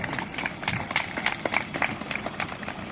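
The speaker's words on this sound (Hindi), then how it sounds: "सभी दर्शकों से अनुरोध है कि जोरदार ताली बजाकर मुख्य अतिथि महोदय का स्वागत करें" A seated audience claps to welcome the chief guest at a CISF 56th foundation day ceremony in Dibiyapur, with steady, scattered applause throughout and individual claps standing out close by.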